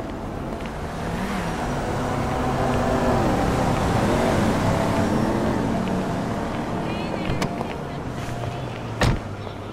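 Car driving in GTA V: a steady engine drone that swells and eases under in-car talk, with one sharp knock near the end.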